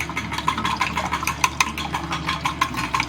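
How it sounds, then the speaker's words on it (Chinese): Utensil stirring egg mixture as water is added for steamed egg with abalone, a quick series of light clinking taps against the bowl, close and regular, with no talk. "然后边加的时候边搅拌"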